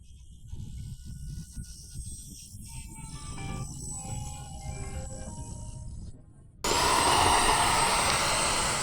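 Steady engine drone of a small RC model airplane flying at an airfield, fairly constant, then a sudden louder, brighter whine as it passes close near the end.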